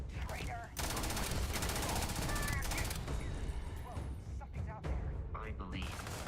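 Rapid bursts of Earth gun fire crackle in a Starfield firefight, dense and loud, cutting out briefly mid-sequence before resuming, with shouted voices and game sounds layered over the shots.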